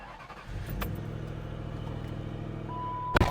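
A used car with an aftermarket exhaust at a public auto auction starts up, its engine settling into a steady low idle rumble, followed by a brief electronic beep and a short clatter near the end.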